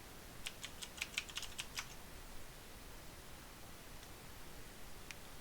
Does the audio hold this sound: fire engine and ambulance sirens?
no